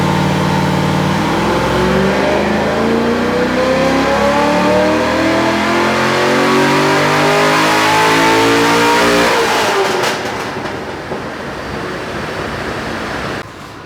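A Chevrolet Corvette C6 Z06 V8 on a tuned dyno run, roaring loud and steadily climbing in pitch through the revs for about nine seconds, then dropping off into a lower rumbling decel.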